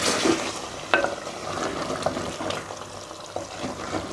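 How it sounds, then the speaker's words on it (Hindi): Spice masala with three to four green chillies frying in a pan for Punjabi-style chicken and arbi, a steady close sizzle with a few sharp stirring clicks and scrapes scattered through, no talking. "इसके साथ ही मैं इसमें 3 से 4 हरी मिर्चें भी शामिल कर दूंगी और मसाले की भुनाई करेंगे थोड़ी सी"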